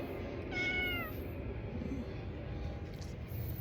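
A single short cat meow rises near the start over a low, steady background hum. Then it is quiet.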